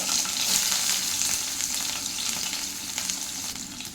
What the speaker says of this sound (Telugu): ఉల్లిపాయ మంచిగా ఫ్రై చేసేసుకోవాలి ఉల్లిపాయ ఫ్రై అయింది కదా